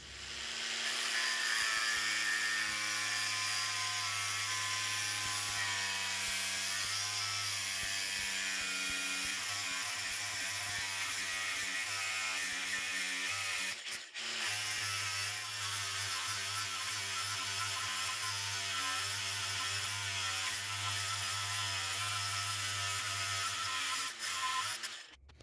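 A cordless brushless three-speed angle grinder with a 125 mm disc cuts through a 19 mm (3/4 in) steel pin, two loud sustained screaming cuts split by a brief pause near the middle.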